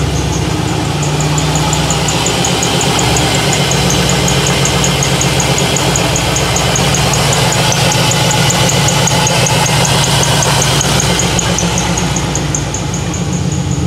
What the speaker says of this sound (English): it's got an LQ9 Chevy motor in it, which is basically a Cadillac Escalade motor